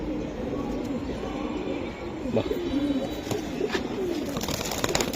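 Pigeons coo softly and repeatedly at a pigeon seller's loft while a light-coloured female bird is shown. A brief exclaiming voice cuts in over the birds.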